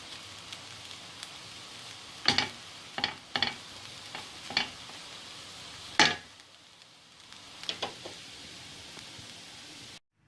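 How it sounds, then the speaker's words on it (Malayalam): A spatula scrapes and tosses veg Hakka noodles with spring onion in a pan, giving sharp, irregular strokes over a faint, continuous sizzle, with a quieter stretch between the bursts. "ഇനി ഇതിലേക്ക് അല്പം സ്പ്രിംഗ് ഓണിയൻ കൂടി ചേർത്ത് മിക്സ് ചെയ്ത് ഫ്ലെയിം ഓഫ് ചെയ്യാം."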